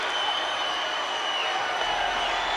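A wrestling arena crowd cheers and applauds in a steady, wide roar of clapping and voices, held at an even level throughout.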